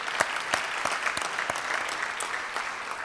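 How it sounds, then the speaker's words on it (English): A Rotary meeting audience gives a round of applause, a fairly soft crowd clapping with a few sharp, distinct individual claps standing out, steady throughout. "So let's give Saban a round of applause."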